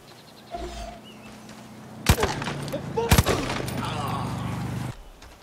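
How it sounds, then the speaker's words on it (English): Helmets crack and break under gunfire in Far Cry New Dawn: two sharp bursts of shots with brittle cracks ring out close and loud amid rumbling game ambience, a brief murmur of voices earlier. "One of the most satisfying sounds in this game is the cracking and breaking of said protection"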